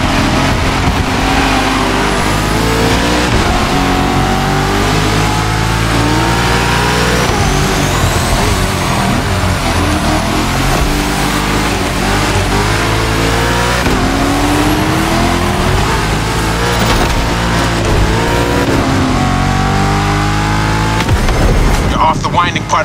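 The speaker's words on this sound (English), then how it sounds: "Now you can let the supercharged V8 do the talking." Supercharged V8 of a Ford Mustang Shelby GT500 Tribute Edition in The Crew Motorfest revs and pulls hard, engine pitch rising and falling through repeated gear changes, loud and close, with a voice speaking over it.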